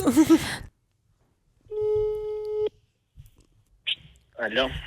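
A single steady telephone tone sounds for about a second between short bursts of talk, followed by a brief beep.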